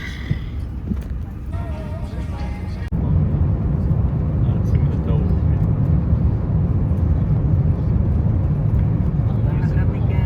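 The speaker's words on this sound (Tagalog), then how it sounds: "nandun na kami sa loob ng eroplano" Steady low engine drone inside an airplane cabin during boarding on a flight to Hong Kong, a brief quieter stretch then a louder continuous hum with faint voices murmuring underneath.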